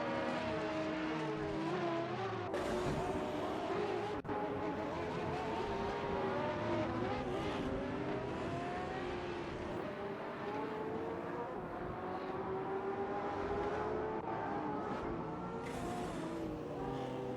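Supercar engines in a racing video game: a continuous layered whine of several cars, their pitches gliding up and down as they accelerate and shift, loud and unbroken for the whole stretch.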